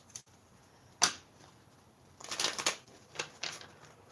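Cards flutter and snap in short bursts: one sharp riffle early, then a cluster of quick shuffling clicks and a couple more later, fairly quiet.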